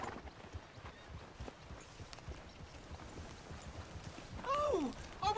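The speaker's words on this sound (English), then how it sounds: "I could just get on my horse if we can make it faster" Horse hooves clip-clop at a steady walking pace in Red Dead Redemption 2, a soft continuous patter, ending in a short whinny near the close.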